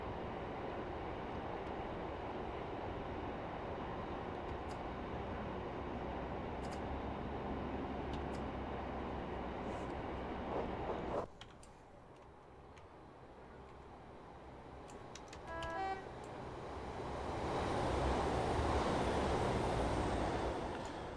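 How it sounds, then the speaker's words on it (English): A Class 143 diesel train in Train Sim Classic runs steadily with a continuous rumble, drops abruptly to a quieter hum partway through, then builds again with rising engine and rail noise. "So this Class 143 train comes with one of the dovetail routes you can buy for Train Sim Classic"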